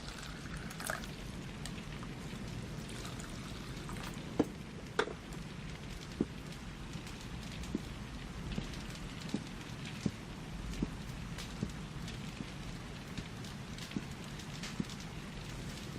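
Light rain patters steadily outdoors as a faint, continuous hiss, dotted with scattered individual drips and taps.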